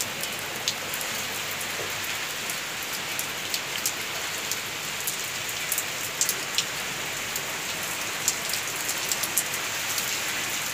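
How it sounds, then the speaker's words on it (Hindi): Light rain falling outdoors in a yard, a dense even patter of drops striking surfaces with scattered crisper splashes over a steady hiss, no voices. "थोड़ी थोड़ी बारिश होगी स्टार्ट।"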